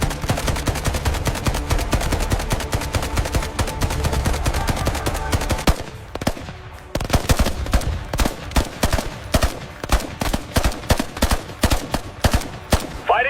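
Rapid gunfire fills a staged Indian Army battle scene, loud machine-gun bursts and rifle shots overlapping densely, then thinning into sharper separate shots after a brief lull, with no talking.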